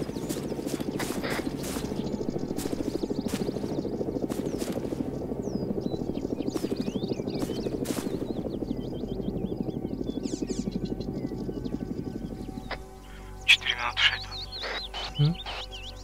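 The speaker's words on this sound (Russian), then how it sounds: "Три вертолета." Several military helicopters in the combat video game ArmA 3 make a loud, steady rotor thrum for about twelve seconds, then cut away to quieter scattered game sounds and faint voices.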